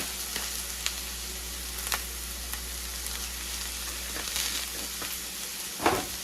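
Seasoned beef wonton filling with garlic pepper, garlic powder and onion powder sautéing in a pan, giving a steady, soft sizzle with a few faint scrapes and clicks, no voices.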